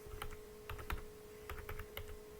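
Quick bursts of clicky keystrokes on a computer keyboard while entering text into a spreadsheet cell, a few irregular clusters of taps, quiet and close, with no talking.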